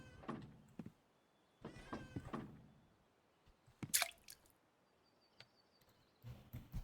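In the fishing game Russian Fishing 4, a caught fish strikes the boat with a wet, cat-like squeaky thud, one sharp close hit amid sparse soft in-game splashes and ambient quiet.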